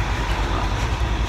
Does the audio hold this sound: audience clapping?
no